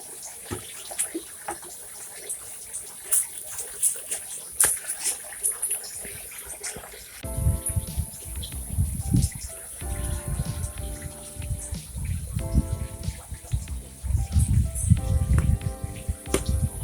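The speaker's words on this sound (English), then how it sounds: "I am way more generous now with the amount of water that I'm using to this pak choy" Water poured onto pak choy plants in a garden, a faint splashing trickle at first, then a fuller gushing pour that runs steadily and close, with occasional quiet voices in the background.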